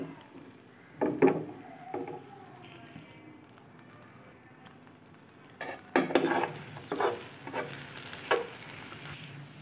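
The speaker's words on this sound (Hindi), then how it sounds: "अब मैं अंडे को पूरे तवे पे अच्छी तरह से जो है वो फैला दूंगी और इसे अच्छी तरह से फ्राई कर लूंगी।" An egg spread across a hot griddle for chicken vegetable fried rice fries with a steady soft sizzle, broken by occasional louder scraping and stirring bursts.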